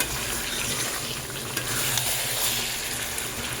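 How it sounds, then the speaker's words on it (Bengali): Chicken stir-fried with masala in a hot pan gives a loud, dense, continuous sizzle close by, with occasional soft scrapes of stirring and no voices. "এবার চিকেন দিয়ে মশলাটা দিয়ে বেশ ভালোভাবে কষাবো"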